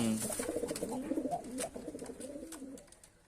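Soft, throaty cooing from pigeons repeats in low rolling phrases, close by, with faint chirps and background rustle.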